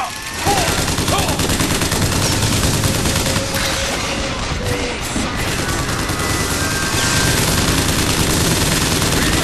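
Heavy, sustained gunfire roars in the shooter video game Bioshock Infinite, with continuous overlapping automatic bursts and booms forming a loud, dense wall of sound.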